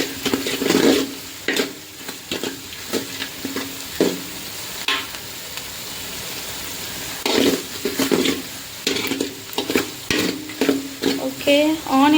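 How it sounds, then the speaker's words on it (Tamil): Onion sautéing in a pan, with a steady sizzle and repeated scraping stir strokes from a spoon, close up and without talk. "ஆனியன் இப்போ வதங்கிட்டுருக்கு"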